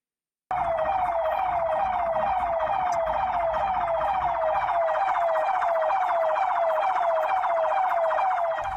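A loud, continuous ambulance siren, its repeating rising wail cycling steadily and close, heard alone on a congested state highway junction in Kerala.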